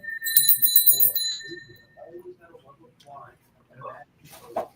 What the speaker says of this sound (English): Can y'all hear the bell, like the ringing of the bells?